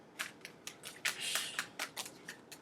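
Tarot cards being shuffled, a run of crisp riffling bursts and snaps in quick irregular succession, close and fairly quiet, with no voice.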